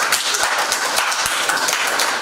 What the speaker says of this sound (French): Alors on peut applaudir les deux personnes.